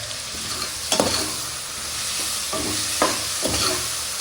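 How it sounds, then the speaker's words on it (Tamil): A spoon scrapes and stirs tomatoes and mint through a sizzling pan, the steady frying hiss broken by several distinct scraping strokes close at hand. "சரி, எல்லாத்தையும் நல்லா ஒன்று சேர கலந்து விட்டுருவோம்."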